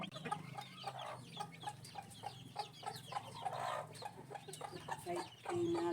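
Backyard hen, a mother brooding her newly hatched chicks, clucking repeatedly in close range with soft peeping chicks around her and a brief rooster-like call near the end.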